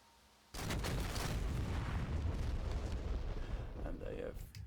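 JDAM bombs dropped from an AV-8B Harrier in DCS explode in a sudden loud blast that rumbles on for several seconds, fading slowly.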